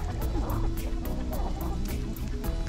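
Several Partridge Chantecler chickens cluck and murmur nearby in a continuous, busy chatter with soft rustling in the background.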